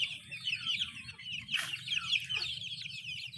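A flock of inbred Rhode Island chickens clucks and chatters continuously, close and fairly quiet, with one sharper squawk rising above the steady murmur partway through.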